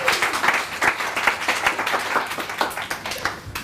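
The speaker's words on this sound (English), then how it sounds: "Give him a round of applause!" Audience applause at a sales training seminar, a dense burst of many hands clapping close and loud, steady for several seconds before easing slightly at the end.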